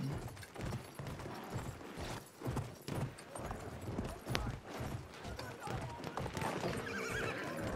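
In the video game Battlefield 1, a horse gallops with rapid hoof clip-clops and lets out a neigh amid distant gunfire and game noise, with a voice talking over it.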